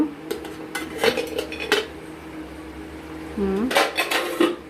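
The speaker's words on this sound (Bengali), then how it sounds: "এইবার আমরা ঢাকনা খুলব।" Metal lid lifted off a cooking pot of fish and potato curry, with sharp clanks and scraping against the rim, some sizzling and a few brief clatters of cookware nearby.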